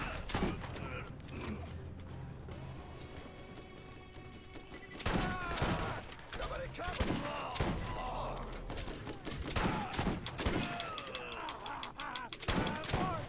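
Gunfire from a weapon in Borderlands, with rapid repeated shots in bursts mixed with game effects and mechanical clatter, moderately loud throughout.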